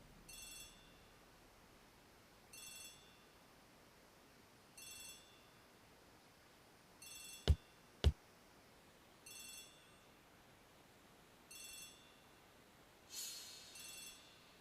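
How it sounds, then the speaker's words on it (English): A telephone rings in a hallway in the Agatha Christie ABC Murders video game, repeated short ring bursts at steady intervals, quiet and somewhat distant, with two sharp clicks partway through. "The telephone in the hall is ringing."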